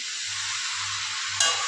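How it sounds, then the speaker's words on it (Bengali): Leftover soaked rice (panta bhat) stirred and fried with spices in a pan, a steady bright sizzle throughout with soft rhythmic scraping strokes underneath and a brief louder hiss near the end. "এবার আমি এগুলোকে ওপর নিচ করে দিচ্ছি, যাতে মশলাগুলো পান্তা ভাতের সাথে ভালোভাবে মিশে যায়।"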